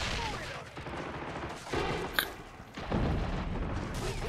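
Machine gun fire in the Men of War: Assault Squad game, a dense run of rapid shots and distant battle booms filling the mix, with a sharp louder burst midway and faint talk in the background.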